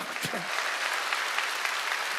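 A church revival crowd in an indoor gymnasium claps continuously, a dense, loud, even wash of applause with a brief voice at the start.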